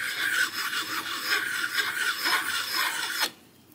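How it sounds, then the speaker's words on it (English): A metal file rasps back and forth over the frets of an inexpensive guitar's neck, a quick run of close scraping strokes that stops abruptly near the end. "You know I like to use a metal file to do it."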